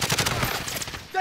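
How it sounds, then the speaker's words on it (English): Short clatter of automatic gunfire from a battle royale shooter, a quick run of close shots lasting about a second and fading at the end, mixed with game noise. "Taking fire."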